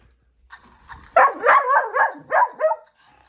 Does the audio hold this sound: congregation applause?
no